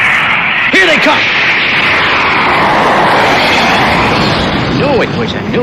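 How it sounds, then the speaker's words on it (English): An airplane sound effect from the Thunderbirds series roars past in the desert, a broad swelling jet rush that builds and fades over several seconds, with voices speaking over it. "What a plane!"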